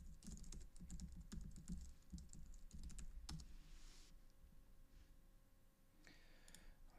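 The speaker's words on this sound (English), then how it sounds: "I'm going to go ahead and type that one in" A password goes in on a computer keyboard as a quick run of soft key clicks, bursty and irregular, with brief pauses between clusters and no voices.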